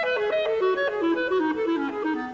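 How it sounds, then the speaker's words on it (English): Clarinet from Holst's Mercury playing a quick, lilting melodic line in 6/8 time, clear and moderately soft, with light orchestral backing and no voices. "Here's a clarinet playing in 6/8 time."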